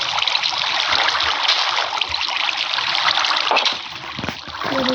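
Water is placed in Minecraft and runs as a steady trickling, splashing stream, loud and continuous with no voices.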